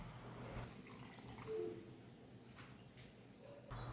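Half a cup of water trickles into a mixer bowl holding semolina and yogurt for dhokla batter, a soft, faint pour with light dripping.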